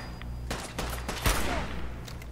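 Gunfire in the Fallout 4 video game: a rapid fusillade of repeated shots with one heavier bang near the middle, loud over a steady low background hum.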